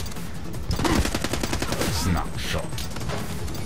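Loud, rapid video game gunfire crackles in dense overlapping bursts with explosions, sustained throughout with a heavy rumbling undertone.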